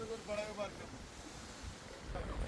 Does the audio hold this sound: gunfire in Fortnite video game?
no